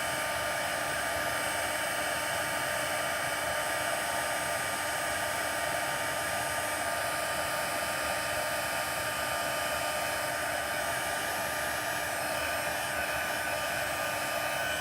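A heat embossing tool blows hot air in a steady, unbroken whir close to the mic, with no other sounds throughout.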